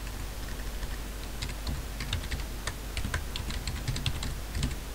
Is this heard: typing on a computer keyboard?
yes